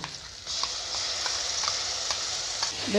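Onions and tomatoes fry with whisked curd and spices in a pan, giving a bright, continuous close sizzle that swells after a quiet start, with faint stirring taps.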